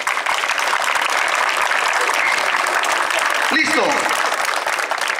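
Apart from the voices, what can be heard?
applause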